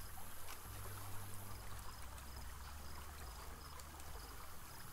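Lizard lapping water in the video game Saurian, a steady trickling, streaming wash with low rumble beneath, continuous and fairly quiet, no voices.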